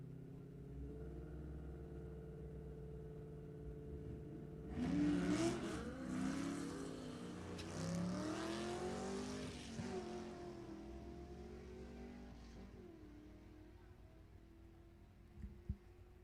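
A 1989 Mustang with a GM motor and a 5.0 Mustang launch off the line at a drag strip, the engines swelling into a loud roar that fades as the cars pull away, over a steady idle rumble.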